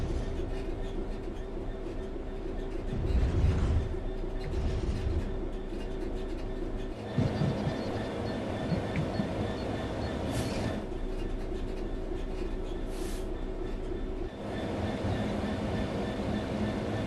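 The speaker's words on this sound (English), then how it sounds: "The train will then coast on level ground, and the train will only slow down very gradually" Steady low rumble of a train coasting on level ground in Train Sim World 3, with faint rattles, occasional clunks, and brief hissing bursts over the continuous drone.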